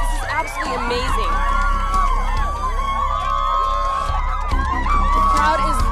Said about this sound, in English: The crowd is loving him.